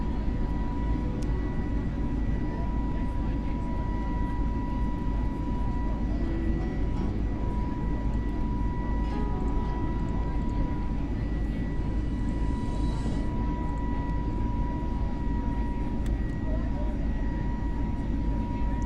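An Airbus A32NX airliner taxis after landing on a Paris to London flight in Microsoft Flight Simulator 2020, giving a steady, even engine drone with faint tonal hums and no change in level.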